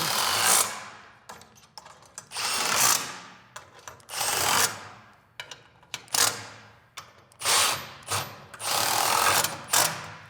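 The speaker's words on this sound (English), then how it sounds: "you can just run them in with an impact driver" Impact driver running screws in to mount a Cox hose reel in a garage, about six loud bursts of whirring and hammering separated by brief pauses, close up with no talking.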